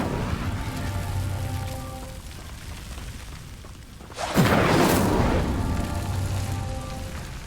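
A fire spell called Incendio is cast in Hogwarts Legacy, bursting out as a sudden loud whooshing flare midway that rolls into a sustained rushing roar over an ambient game backdrop.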